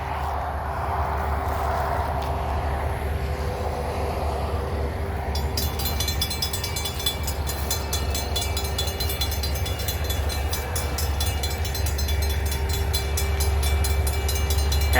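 Trains roll past close by at Weyerhaeuser with a heavy, continuous rumble, clattering wheels and squealing metallic tones building toward the end, loud and steady with no talk.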